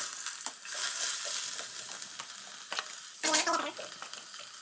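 Onions fry in very hot oil for a chicken curry, a steady close sizzle with soft spoon scrapes and a sharp louder crackling burst near the end.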